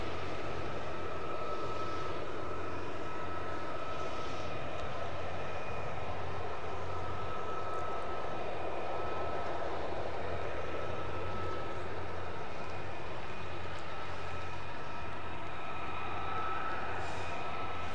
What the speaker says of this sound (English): F-35s, here we go. Now it's time for some comparative noise.